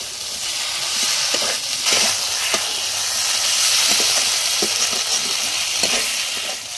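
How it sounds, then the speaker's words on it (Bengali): Fried potato and pointed gourd being stirred into spices in a pan, giving a steady close sizzle and hiss with repeated scraping taps of the spoon against the pan. "এটাকে মিক্সিং করে দেওয়া হচ্ছে মশলার সঙ্গে"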